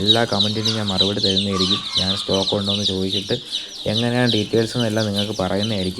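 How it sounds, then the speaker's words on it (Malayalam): Many young chicks at a farm chirp in a steady high twitter that continues under close, constant talk. "അപ്പോൾ നമ്മുടെ ഇതാണ് കേട്ടോ കോഴിക്കുഞ്ഞെന്ന് പറയുന്നത്."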